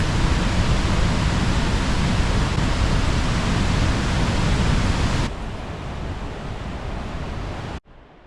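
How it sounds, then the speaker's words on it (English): A waterfall pours in a remote New Zealand forest in winter, a steady, loud, full-bodied roar of rushing water that drops to a softer level partway through before cutting off abruptly near the end. "Sound of the waterfall gracing my ears."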